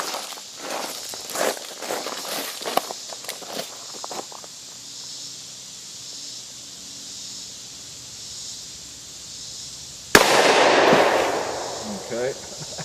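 A single loud gunshot from a Smith & Wesson 629-4 .44 Magnum revolver cracks out sharply near the end, following a stretch of quieter handling sounds and soft movement outdoors.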